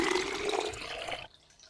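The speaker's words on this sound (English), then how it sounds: "now we've got 500 millilitres of cold water" Cold water pouring into a bottle for homemade raspberry soda, a close, full gurgling stream that runs for about a second before cutting off sharply into near quiet.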